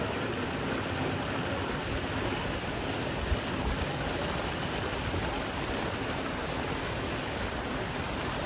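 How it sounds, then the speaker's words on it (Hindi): Steady broadband rush of the north-flowing Shipra river near Kainchi Dham, a continuous even wash of flowing water with no breaks, heard alone without voices. "देखिएगा बिल्कुल कल कल छल छल आपको साफ सुनाई दे रही होगी।"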